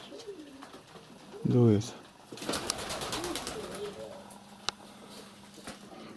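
A pigeon from a flock of about 40 kept pigeons gives a short, low coo nearby against soft outdoor background noise, and a person says a brief word.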